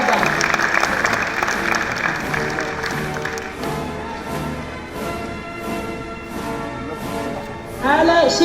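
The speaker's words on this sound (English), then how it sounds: "Give them a good round of applause." An audience applauds graduates at a graduation ceremony, steady clapping running throughout at moderate volume, while a voice speaks over it near the end.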